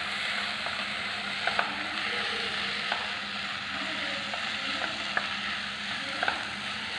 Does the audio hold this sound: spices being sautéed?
yes